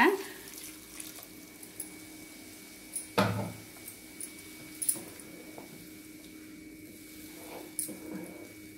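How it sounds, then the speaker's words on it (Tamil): Water running and splashing into a pan of egg curry, a steady pour with a few clanks and bumps of cookware, close by, no voices. "இப்போ இதில் தண்ணி சேர்த்திடலாங்க"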